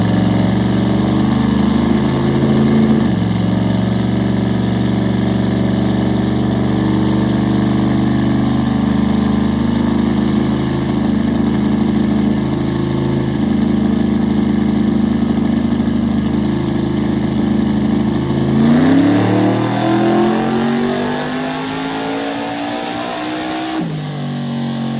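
A rowdy car engine idles on a dyno before revving hard into a full-throttle pull, a loud, steady roar whose pitch climbs sharply near the end and then drops back.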